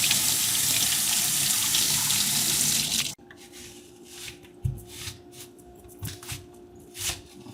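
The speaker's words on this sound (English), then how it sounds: "I'm going to mix the onion and the tomatoes, and I'm gonna rinse them again." A kitchen tap runs steadily as onion and tomatoes are rinsed under it, then stops abruptly partway through, leaving quiet handling and wet rubbing sounds of the vegetables.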